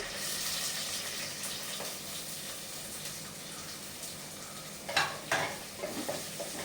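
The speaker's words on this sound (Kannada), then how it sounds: "ಈಗ 3 ಹಸಿಮೆಣಸಿನಕಾಯಿ ಹಾಕ್ತೆ, ಮತ್ತೆ ನೀರುಳ್ಳಿ ಹಾಕ್ತೆ." Green chillies and onion fry in a pan with a steady soft sizzle, then louder stirring scrapes and clatter arrive near the end, and nobody talks.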